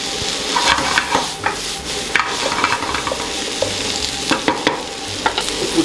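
Flour cooking in olive oil and butter in a pan for stuffed cannelloni, a soft steady sizzle broken by repeated scraping and stirring knocks of a utensil against the pan, close and alone.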